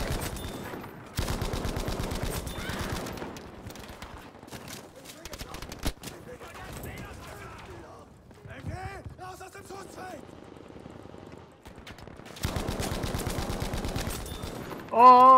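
A Bren light machine gun fires in Battlefield V in rapid bursts, a close rattling stream that cuts off and resumes, with a voice talking between the volleys.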